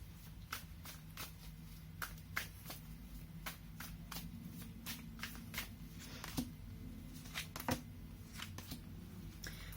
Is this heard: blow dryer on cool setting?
no